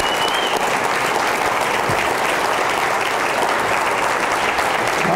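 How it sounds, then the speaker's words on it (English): A school-board audience applauds a Region 11 Superintendent of the Year honoree, a loud, steady wash of many hands clapping that holds evenly for about five seconds with no voices over it. "So that deserves applause."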